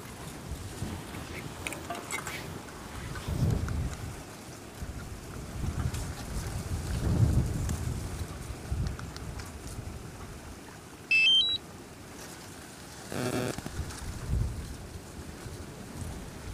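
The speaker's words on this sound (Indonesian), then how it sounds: "Oh ya, ini angin lumayan kencang Mas Bro." Strong wind buffeting outdoors while a DJI Mavic Pro drone flies, a continuous rough roar with heavy gusts that swell and fade, plus a brief whine and a short burst of rushing noise, with no voices.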